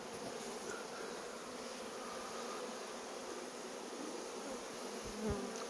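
Honeybees hum in a thick, unbroken drone as a beekeeper stirs them near the hive, the buzzing close and even throughout, with a faint bump near the end.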